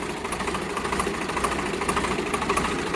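A Swaraj 834 tractor engine runs steadily up close, giving a continuous, evenly pulsing mechanical rumble with no pauses.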